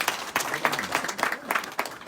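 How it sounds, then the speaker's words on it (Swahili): An audience at an outdoor gathering in Kieni claps in a lively burst of applause, with uneven, crackling rounds of hand claps close by. "Mpigieni makofi."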